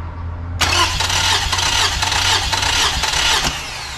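Car engine cranking over on the starter with the plugs out during a compression test, a steady loud churning drone that starts abruptly and runs for about three seconds before cutting off, no voices.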